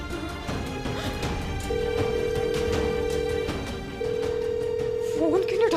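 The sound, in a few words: telephone ringing unanswered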